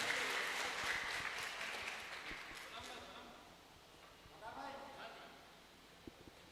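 Faint audience applause at an All India Mushaira poetry gathering in Gohalpur, Jabalpur, a broad wash of clapping from a crowd that slowly fades over several seconds, heard at low level.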